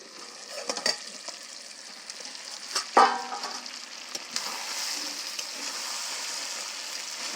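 Duck meat for curry sautéing in a pan, with a steady soft sizzle, occasional stirring clatter and a sharper burst of frying partway through, close and fairly quiet.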